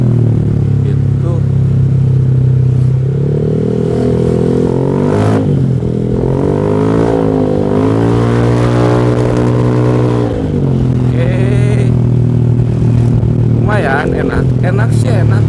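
CVT scooter fitted with upgraded rollers is throttled up and held, engine droning and rising in pitch close by, with clattering from the drivetrain and someone talking over it.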